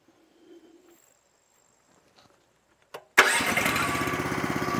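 The engine of a firewood-making machine, a 28 Pro, fires up abruptly after near silence and a brief crank, then runs loud and close at a steady, throbbing idle.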